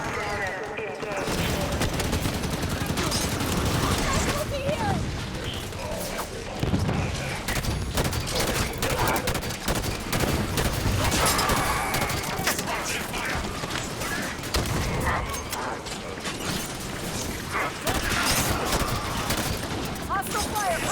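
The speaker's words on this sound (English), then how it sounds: "Taking fire on the left." Sustained gunfire from a Halo 5 campaign firefight, dense overlapping bursts of automatic weapons and impacts running nearly continuously at loud level, with game voice announcements mixed underneath.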